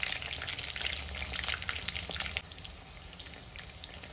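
Soya chunks deep-frying in hot oil for a Kerala-style soya 65, giving a steady, dense crackling sizzle that stays close and fairly loud throughout, easing slightly toward the end, with no voices.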